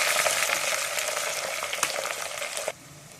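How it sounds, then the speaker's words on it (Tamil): Steady crackling sizzle of onions and curry leaves frying in hot oil, with a few sharper pops, before it suddenly drops away near the end. "வெங்காயம் நல்லா வதங்கிடுச்சு"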